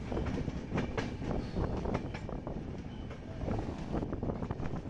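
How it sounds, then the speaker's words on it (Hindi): A train rounds a curve on a cold, windy day in Bihar, a rumbling clatter of wheels on rails with gusty wind buffeting the microphone throughout, steady and fairly close. "मुझे ये मौका मिल रहा है कि मैं मुड़ते हुए ट्रेन को देखूं"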